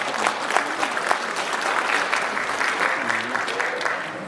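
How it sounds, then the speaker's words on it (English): An audience at a Lunar New Year celebration gives a round of applause, a sustained mass of clapping with a few louder individual claps standing out, steady and fairly close. "if we can have another round of applause for her as well"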